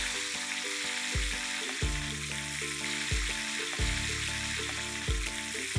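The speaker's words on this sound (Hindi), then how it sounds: "इसे फ्राई होने में 7 से 8 मिनट लगेंगे।" KFC-style fried chicken deep-frying in hot oil, a steady close frying sizzle with no voices, overlaid by recurring tonal harmonic music-like notes.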